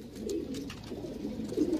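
Pigeons, high-flyer breeds, coo in a low, continuous rolling murmur close by, with the throaty sound swelling slightly near the end.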